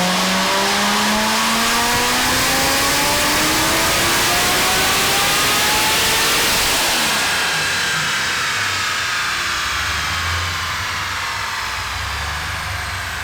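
A Stage 5 Chevrolet Corvette C6 Z06 engine pulls hard and loud, its pitch climbing steadily through the revs before dropping off and settling into a lower, fading drone.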